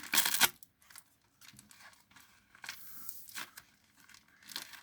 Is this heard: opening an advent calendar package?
yes